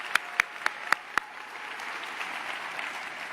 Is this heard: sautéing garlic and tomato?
no